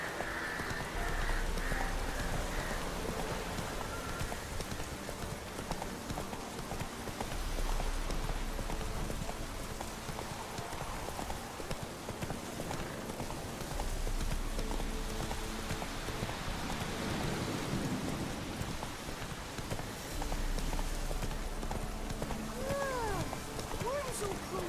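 Roach the horse gallops in The Witcher 3, with steady rhythmic clip-clop hoofbeats running through the whole stretch amid rain and game ambience, while a voice speaks at times.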